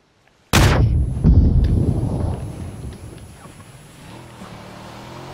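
A single loud, close shotgun blast from the video game PUBG on PS4, with a heavy booming report that rolls off into a long fading echo, followed by quiet ambient game noise.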